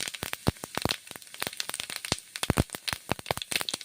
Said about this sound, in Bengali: জিরে ফোড়ন দিচ্ছি